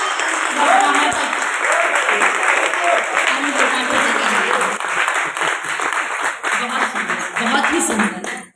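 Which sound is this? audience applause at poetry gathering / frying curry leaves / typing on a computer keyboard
audience applause at poetry gathering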